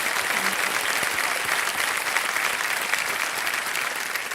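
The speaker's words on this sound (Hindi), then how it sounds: "जोरदार तालियां बज जाए एक बार इनके लिए" Studio audience on a TV quiz show, KBC India, breaking into loud, sustained clapping, a dense even wash of applause from a large crowd.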